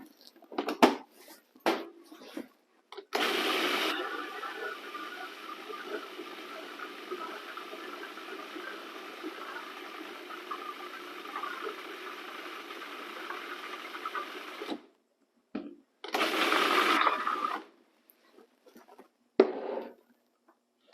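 Food blender whirring steadily as it purees pesto while oil is poured in, a sustained motor drone lasting about eleven seconds, followed by a shorter second burst and a few brief clatters.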